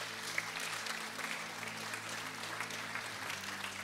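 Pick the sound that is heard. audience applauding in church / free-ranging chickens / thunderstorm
audience applauding in church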